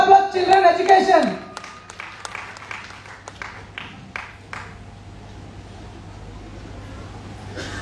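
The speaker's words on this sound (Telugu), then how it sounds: "yes, big round of applause" An audience claps in a big round of applause at a business plan presentation, starting loud right after someone speaks, then thinning into scattered claps that fade away.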